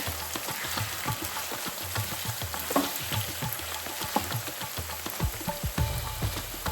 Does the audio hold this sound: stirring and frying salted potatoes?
yes